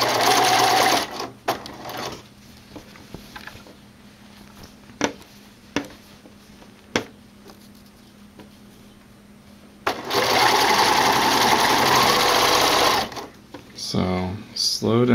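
A sewing machine stitches binding on a Y-back racer tank top in two loud runs of fast whirring, near and steady, with quiet handling noises and a few clicks in between.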